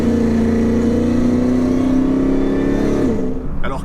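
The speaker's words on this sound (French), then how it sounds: "peut-être plus le bruit du compresseur devant. Pour qu'on l'entende, c'est génial." Supercharged V8 engine of a Ford F150 Lightning pickup running close by, a loud sustained drone with rising pitch and a whining compressor, dropping off near the end.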